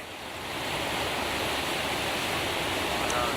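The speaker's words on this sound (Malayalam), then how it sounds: "അതിരപ്പള്ളി ചാലക്കുടി പുഴയിൽ പിള്ളപ്പാറ മേഖലയിൽ ശക്തമായ കുത്തൊഴുക്കാണ് ഉള്ളത്" Strong, fast current of the Chalakudy river at Pillappara, Athirappilly, a dense, continuous roar of rushing water that swells after a moment and holds steady and loud.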